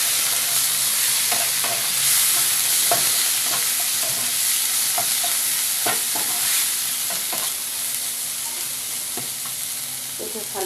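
Spices, chili powder and salt being stir-fried in a pan for a Chinese-style curry, a steady loud sizzle with repeated scraping stirs throughout, no talking.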